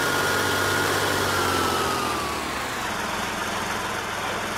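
A small tractor engine in Farming Simulator 19 drones steadily and loudly at a constant pitch, with a slight shift in tone partway through.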